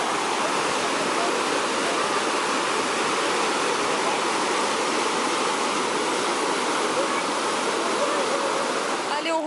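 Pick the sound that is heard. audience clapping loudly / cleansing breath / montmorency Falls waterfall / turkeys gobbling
montmorency Falls waterfall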